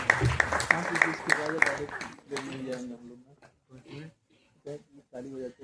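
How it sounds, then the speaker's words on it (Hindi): At a mushaira at IIT Delhi, an audience claps in a brief burst of scattered hand claps that fades within about two seconds, followed by someone speaking. "दोस्तों तालियां बजाते रहें पूरे मुशायरे"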